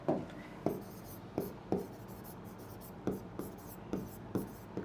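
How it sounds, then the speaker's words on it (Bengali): Writing on a board during an English lesson, with a series of distinct, rhythmic scratchy strokes close by, about ten over a few seconds, and no clear talk. "এই যে লিখে দিচ্ছি"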